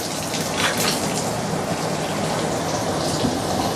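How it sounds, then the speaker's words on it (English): Hot water pours steadily into a wok while a fish curry is cooked, a continuous loud splashing rush with no talk over it. "hot water."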